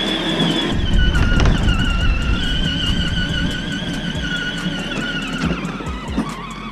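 Traxxas Hoss RC truck driving, its electric motor giving a steady whine with rising and falling pitch, close and fairly loud, with a few thumps and scuffs of the chassis and tires through the run.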